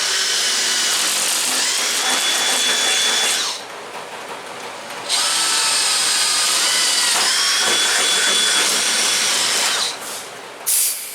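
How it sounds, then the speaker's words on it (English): A power drill whines loudly in long bursts, drilling holes in a race car body panel, pausing briefly between holes, close and without talk. "I'm going to go ahead and start drilling holes."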